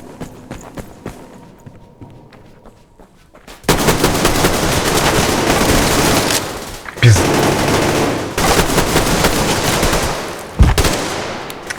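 Rapid bursts of automatic gunfire in the online shooter Survarium, sustained volleys with a few sharp louder shots, starting after a quiet stretch.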